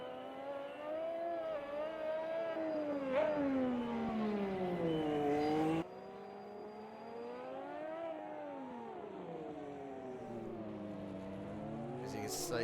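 A Formula One car at the 1988 Monaco Grand Prix powers out of Portier with wheelspin, its engine pitch climbing and dipping in sweeping waves, a steady roar under a commentator's voice.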